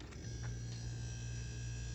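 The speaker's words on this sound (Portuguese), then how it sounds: "Geladeira voltou a funcionar. Tá o barulho." An Electrolux RE28 refrigerator compressor, running again after replacement of its thermal protector and PTC relay, gives a steady low mechanical hum with a faint electrical whine, close and quiet.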